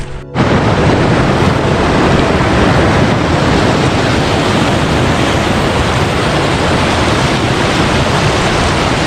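Cold mountain stream water rushes on a trek near Tabo in Spiti Valley. After a brief quiet instant, a loud, dense, unbroken roar floods in and stays even throughout.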